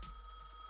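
A telephone rings in a gas station video game, a faint steady electronic ring tone held briefly over a low background hum, with no talking.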